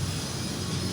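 A mini trail motorcycle engine runs during a test, giving a loud, steady, close droning hum throughout.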